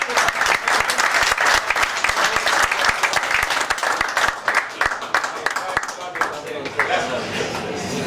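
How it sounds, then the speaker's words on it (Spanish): An audience at a trade expo talk bursts into loud, close applause with sharp individual claps standing out, then thins toward the end as a voice begins. "Es tu billete, un aplauso."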